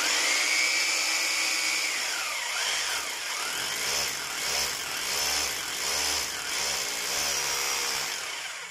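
An OKATZ 850W rotary hammer drills into material with a loud, steady power-tool whine and rhythmic hammering pulses, close and continuous throughout.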